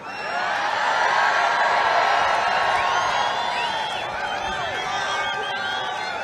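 A large political rally crowd in Freeland, Michigan cheers and whoops continuously, a loud dense roar of voices with scattered shouts filling the whole stretch.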